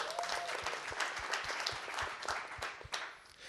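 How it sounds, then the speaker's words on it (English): A conference audience applauds a presenter at a corporate brand-marketing event: dense, steady clapping across the hall that holds strong, then begins to thin toward the end. "Let's give her a round of applause."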